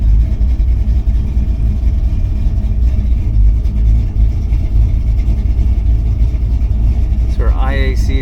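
A 1980 Camaro with a Blueprint 383 stroker engine runs with the throttle plate cracked slightly open, a loud, steady, rumbling idle that fills the clip, with a brief voice near the end.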